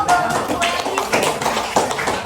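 Hands clapping at a teacher training session on classroom positive culture, a steady patter of claps from a small group, loud and near, with voices mixed in.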